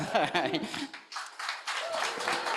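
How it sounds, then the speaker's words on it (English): Applause from an audience at a coding bootcamp demo day: bursts of clapping, moderately loud, mixed with a speaking voice at the start. "a round of applause"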